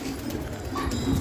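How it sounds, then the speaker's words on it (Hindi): Soft coos from many pigeons in a large coop in Hyderabad murmur close by over a low background hum, brief and continuous. "बहुत सारे कबूतर है।"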